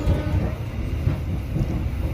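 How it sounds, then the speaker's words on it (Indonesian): The Gajah Yana 42 passenger train runs fast on its rails, a steady low rumble with faint rhythmic clatter heard from inside the carriage, continuous and fairly loud. "Jalannya kereta Gajah Yana 42 semakin laju saja"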